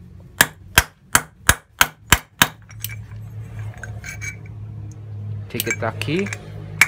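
A hammer strikes a bolt while a Mio Sporty CVT is repaired: seven sharp, evenly spaced metallic clinks sound up close, then softer tool clatter and a few more taps follow as someone speaks.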